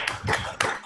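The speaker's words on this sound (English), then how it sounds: "let's unmute and give a round of applause to both the speakers" A short burst of clapping from participants of an online academic seminar, thanking two speakers; scattered hand claps from several people come in two uneven waves, moderately loud and close.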